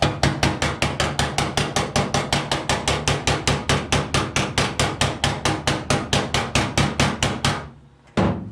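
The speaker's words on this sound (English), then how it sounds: "Now I want to tap it a little bit with my hammer." A hammer taps rapidly and evenly on the sheet metal of a Nissan 240SX fender during side marker hole repair, about thirty sharp metallic strikes in a steady rhythm, close and loud, then a brief pause and one final tap.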